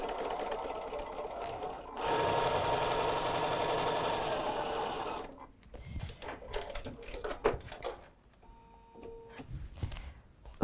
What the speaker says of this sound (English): So I'm going to sew directly on this line.